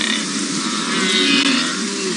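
A huge herd of wildebeest on the plains calling continuously, a dense, steady chorus of low moaning grunts blending into one broad wash of sound, with no talking.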